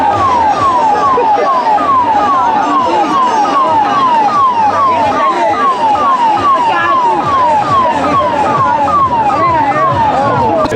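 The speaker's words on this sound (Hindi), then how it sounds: "बीच में देखिए पुलिस की गाड़ी है।" A police car siren at a student protest at Jantar Mantar wails in rapid repeating sweeps, loud and continuous over crowd noise and traffic, with voices talking underneath.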